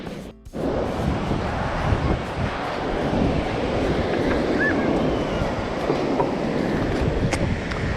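Small waves washing up on a sea beach under steady wind, a continuous broadband rush with no clear breaks, with faint distant voices underneath.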